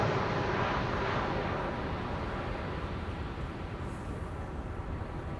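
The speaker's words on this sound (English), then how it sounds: "KLM 737-700." A KLM Boeing 737-700 jet arriving from Edinburgh to land at Amsterdam Schiphol, heard from a field beside the runway as a steady broadband engine roar that fades slowly as it passes, with no voices.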